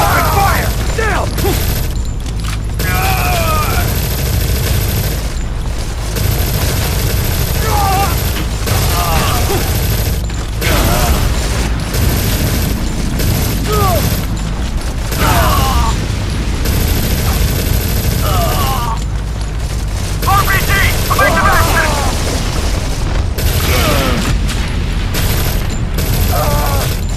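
Bursts of automatic gunfire rattle continuously through a Modern Combat 4 battle, with booms and mechanical clatter layered under shouted commands.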